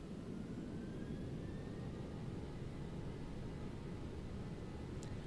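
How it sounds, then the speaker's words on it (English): Boeing 737-800 jet engines spooling up for takeoff in X-Plane 11, a steady broad roar with a faint rising whine underneath, constant and moderately quiet throughout with no talk. "so let's give throttle and take this plane towards Islamabad."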